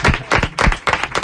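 A small group in a radio studio breaks into quick, close, loud clapping to welcome a guest. The burst is brief and uneven.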